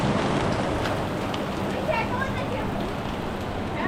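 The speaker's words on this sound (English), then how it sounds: "Decided to rain on us on 4th of July now." Heavy rain pours steadily during a windy Fourth of July storm, a dense, close hiss with no break across the whole stretch, while someone talks over it.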